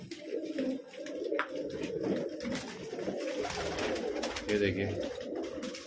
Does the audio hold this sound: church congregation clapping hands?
no